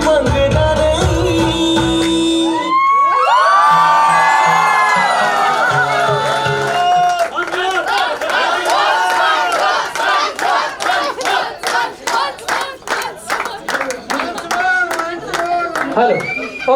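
A wedding crowd first sings and shouts together loudly, then breaks into sustained rhythmic clapping mixed with whoops and cheers, dense and close throughout.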